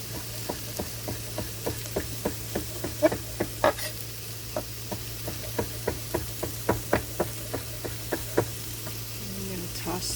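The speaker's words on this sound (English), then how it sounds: "My onions are caramelizing nicely." Onions caramelizing in a pan for stuffed acorn squash give a steady low sizzle, broken by a regular run of sharp scraping knocks as a utensil stirs them, close and moderately loud, with no talking.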